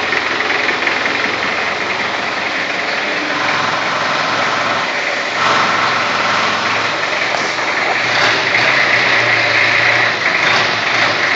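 A buggy engine roaring loudly and continuously during a burnout, a dense, rough mechanical drone that swells slightly at times, close by and with no talk over it.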